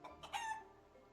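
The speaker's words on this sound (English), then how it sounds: "A hen?" A hen in the zombie survival game Project Zomboid gives a couple of short, quiet clucks followed by a brief rising cackle, faint and alone.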